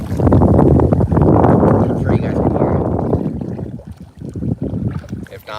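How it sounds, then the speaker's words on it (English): Strong gusty wind buffets the microphone beside the Trinity River, a loud low rumbling roar that surges and eases, fading toward the end. "It is windy as hell, though."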